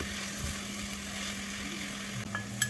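Chicken pieces dropped into a pan of frying garlic, onion and ginger and stirred for curry chicken, a steady broad sizzle with soft scraping, close and continuous.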